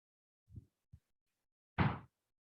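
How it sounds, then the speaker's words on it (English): An indoor door closes in a single solid thud, preceded by a couple of faint soft knocks and shuffles, with quiet room silence in between. "Let me close the door."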